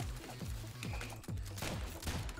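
Rapid, overlapping gunfire from the video game Rounds, with dense repeated shots and impacts forming a busy, faint, continuous barrage.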